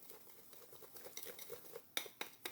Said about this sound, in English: I'm going to stir it with a whisk because my glaze seems lumpy.